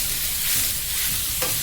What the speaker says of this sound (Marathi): आता ह्यात ही कोबी टाकायची.